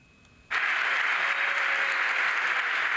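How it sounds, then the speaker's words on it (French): Hearty applause breaks out suddenly at the inauguration of a green hydrogen production factory, jumping from a quiet room to loud, dense clapping from a crowd of about 300 that holds steady. "Des applaudissements nourris pour cette inauguration un peu spéciale"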